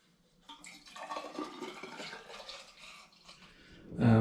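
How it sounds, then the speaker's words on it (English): Apple spirit is poured from a container into a hydrometer jar, a steady close splashing trickle that rises after a quiet start, then ends in a louder knock. "So I'm going to pour some of this into my hydrometer jar."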